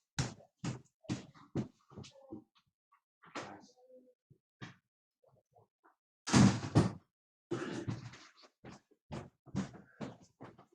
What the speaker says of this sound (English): I'm just going to close the door here